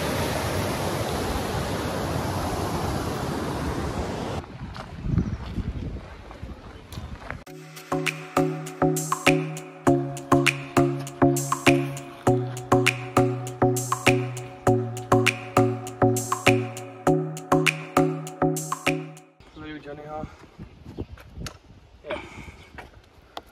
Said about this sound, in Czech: teď jsme tady takhle u vodopádku